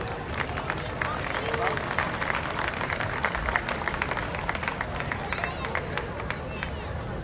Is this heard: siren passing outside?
no